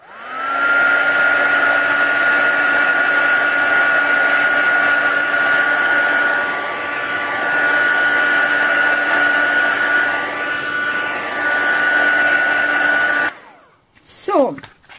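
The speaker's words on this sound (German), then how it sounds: "werden wir das Ganze nochmal schnell föhnen" A hair dryer blows on a damp paper birthday card, a loud, steady whine that runs for about thirteen seconds before cutting off, followed by a brief rustle.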